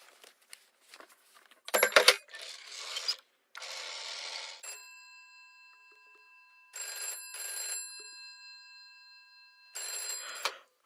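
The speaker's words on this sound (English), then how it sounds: "I just need to make one phone call and I'll be right out" A telephone rings repeatedly during a call in the police-management video game This is the Police, with several separate bursts of bright ringing and no talk.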